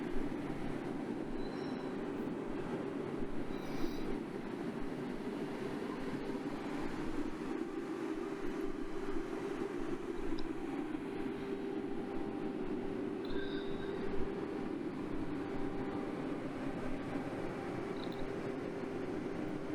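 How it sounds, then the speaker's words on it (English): A blacksmith's furnace blower turns steadily in a workshop, giving a continuous low whirring hum with an even, unbroken drone throughout and no voices over it. "This is our furnace and the blower. This is the rotating rotating part of"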